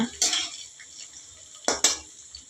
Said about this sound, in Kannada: ಒಂದು ಮೆಣಸಿನ್ಕಾಯಿ ಕಟ್ ಮಾಡ್ಕೊಂಡಿದ್ದೀನಿ ಅದು ಹಾಕ್ಕೊತೀನಿ ಚೆನ್ನಾಗೆ ಮಿಕ್ಸ್ ಮಾಡ್ಕೊಳ್ಳೋಣ